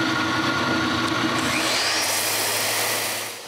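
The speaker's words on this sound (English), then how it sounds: "Now I just have to sand it smoother" A wooden dog treat bowl spins on a lathe while being sanded smooth, producing a steady, close, broadband rushing whir that holds evenly and then fades slightly at the end.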